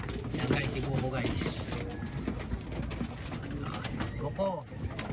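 Pigeons coo softly in repeated low rolling calls amid light fluttering and shuffling, close by, with a person talking over them.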